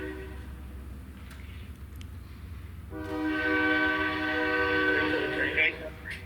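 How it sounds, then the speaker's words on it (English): A passing train's horn cuts in halfway through and holds as a loud, steady, multi-tone blast, carried over the quiet room tone of a school board meeting. "Is that a train on your end?"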